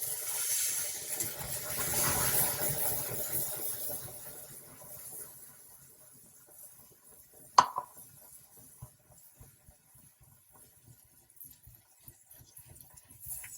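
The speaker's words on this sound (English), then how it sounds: "I'm going to pour in that cup of cream and whisk it." Cream is poured into hot caramel, which gives a bubbling hiss that fades, then a single sharp clink and soft, quiet whisking in a pan.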